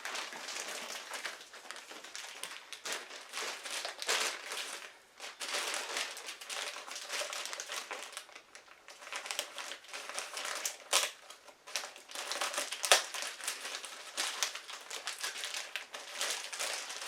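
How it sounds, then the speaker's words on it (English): Plastic packaging around a Dutch Army Saracen Bergan rucksack crinkles and rips open close up, continuous crackling and tearing in irregular bursts for many seconds without speech. "We'll get cracking and rip this open and see what we've got here."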